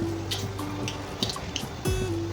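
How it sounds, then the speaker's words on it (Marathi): Mustard seeds splutter in hot oil in a kadhai on a gas stove, with scattered sharp pops and crackles over a low steady hum. "मोहरी छान तडतडली"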